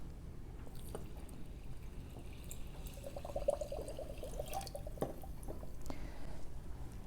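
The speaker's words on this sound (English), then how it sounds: "All right, let's add the water." Water being poured into a jar of salt and rice koji for shio koji at home, a faint steady trickle with a soft gurgling note in the middle, quiet and close.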